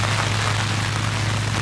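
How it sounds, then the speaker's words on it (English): Steady, dense rain hiss with a low hum underneath falls continuously at a cricket match, Samp Army versus Stallions X in the 2022 Unity Cup, with no break across the whole stretch. "if the rain comes, which it is now"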